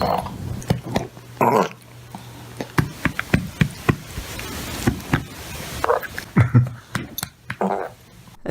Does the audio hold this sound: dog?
yes